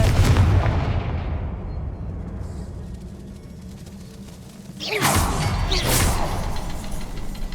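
A Confringo fire spell in the Hogwarts Legacy video game bursts with a heavy, booming blast that fades, then a second crackling whoosh of impact follows a few seconds later.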